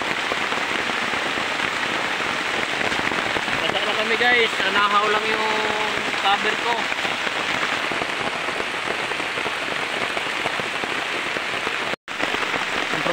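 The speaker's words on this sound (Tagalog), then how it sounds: "Sobrang lakas ng ulan" Very heavy rain drums steadily on a surface near workers making copra, a constant loud roar throughout, with someone talking briefly over it.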